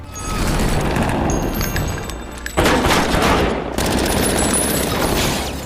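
A sustained gunfight from the film The Town, with dense, continuous bursts of loud gunfire rattling almost without pause.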